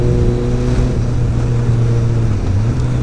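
Suzuki Bandit 1250 motorcycle exhaust while riding, a steady, loud low engine drone with a shift in pitch partway through, continuous and close with no talking.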